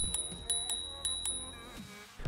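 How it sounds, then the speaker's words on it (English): A flick bell on a KBO Breeze commuter e-bike rings in about six quick, bright, metallic pings that carry clear, close and alone. "and has a flick bell."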